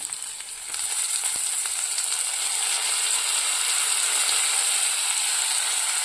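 Banana flower sautéing in a pan, a steady bright sizzle that swells up after the first second and holds evenly and close, with a few faint clicks of stirring.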